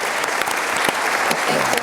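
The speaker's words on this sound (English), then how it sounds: "Big round of applause, everybody, for Get You." Applause from an audience at a company presentation event, a continuous dense wash of clapping running through the whole short stretch at steady loudness, with no voice over it.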